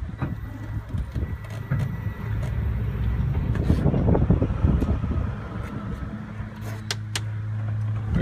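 A custom-built 8-wheel golf cart rolls forward with a steady low motor hum and rattling chassis noise, close and continuous, with some wind buffeting and clicks.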